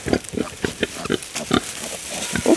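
A mother pig grunts near her nine piglets, a run of short, close, rhythmic grunts and snorts over a couple of seconds.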